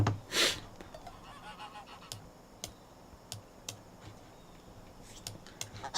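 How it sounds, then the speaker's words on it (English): Geese honking in the Age of Empires video game, a loud honk near the start and then sparse clicks and small game sounds over a quiet background, with no talk. "So Favre Forever picking up some more geese."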